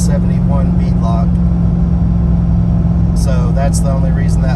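A heavily modified car with a 416 stroker engine, FI spacers, a 4600-4800 stall converter, 2.38-inch pulley and drag radials, droning low and steady from inside the cabin while someone talks over it.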